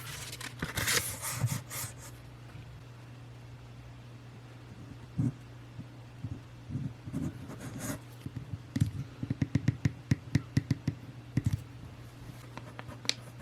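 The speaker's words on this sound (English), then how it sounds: "Mixing up the epoxy." Epoxy being mixed for a broken HP laptop hinge repair makes faint scratchy stirring and scraping with scattered small clicks over a low steady hum, close and quiet.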